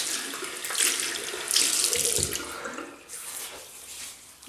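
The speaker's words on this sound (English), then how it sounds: "So I'm just going to wet my face." Tap water runs steadily into a sink as a face is wetted before a wet shave with a Gillette Fatboy razor, splashing close by with surges and dips as hands move under the stream; no one speaks.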